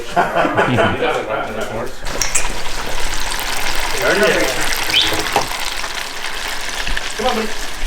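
Fish frying in oil at a Wisconsin turkey camp, a steady loud sizzle and bubbling that runs throughout, with people talking over it and some clattering.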